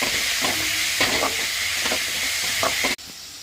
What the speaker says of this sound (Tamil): பாருங்க, நல்லா வெங்காயம் வதங்கிடுச்சு